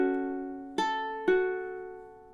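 A ukulele plays measure 6 of a song: a sustained ringing chord, then two sharp plucked strums about half a second apart, each left to ring and decay, played alone and close.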